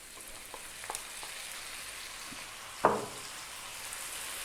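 Crispy bacon and spinach fry over medium heat in a pan, giving a faint, steady sizzle with a few soft taps and one sharper clatter as the food is tossed.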